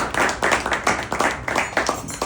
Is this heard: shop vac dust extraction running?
no